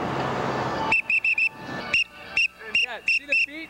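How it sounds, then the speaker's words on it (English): A loud, shrill whistle blown in a string of short, sharp blasts, some in quick pairs, following a stretch of rough background noise. "It's Don's whistle."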